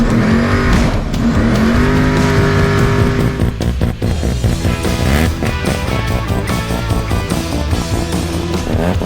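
A drag race car engine revs hard and loud up close, with rapid throaty bursts and surging pulses that fill the whole stretch, no talk over it.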